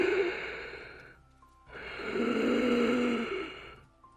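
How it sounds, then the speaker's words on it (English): Heavy breathing of a creature at a door, horror story sound effect: two long, hoarse, rasping breaths, close and fairly loud, with a pause between them and no talking. "I lay there with my eyes on the door and listened to it breathe."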